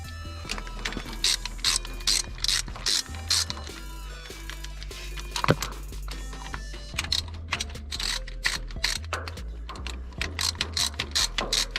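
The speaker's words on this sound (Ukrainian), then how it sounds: "І будемо відкручувати от ці дві шпильки і болти." A hand ratchet loosening two studs and bolts on a walk-behind motor tractor, with rapid clicking pawl bursts repeating in quick strokes over a steady low mechanical hum, close up and without talk.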